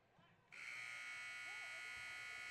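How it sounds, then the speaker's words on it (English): A basketball game buzzer sounds at the end of a period in a girls' district game, a sudden loud sustained electronic tone that starts abruptly and holds steady, with faint crowd noise underneath. "Shot, no good at the buzzer."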